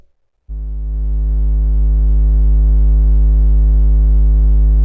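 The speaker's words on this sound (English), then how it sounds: "the first output that we're going to look at is the triangle wave" A steady, low triangle-wave tone from an AS3340 analog synthesizer oscillator starts suddenly after a brief silence and holds on, smooth and loud, swelling slightly.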